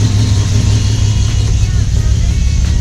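A 2019 car engine idling steadily at about 700 rpm, a loud, close, continuous low rumble with an even drone and no change in pace.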